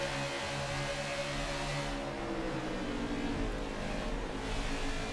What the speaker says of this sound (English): That was some serious heavy braking